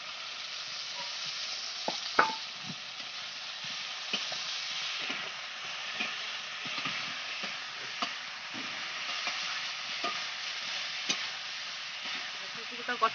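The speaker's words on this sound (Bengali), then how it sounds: "ভাজা কপিগুলো দিয়ে দিলাম, দিয়ে একটু ভালো করে কষিয়ে নেবো।" Fried cauliflower florets sautéed with spices in a pan, with a steady close sizzle and frying hiss throughout. Repeated scraping knocks from stirring cut through at intervals, and no one speaks.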